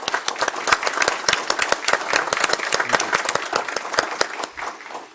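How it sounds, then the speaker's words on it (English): Applause at a city council meeting, a small group clapping with distinct, separate claps at close range, tapering off at the end. "I'd like to recognize and maybe call for some applause for Roger Shell"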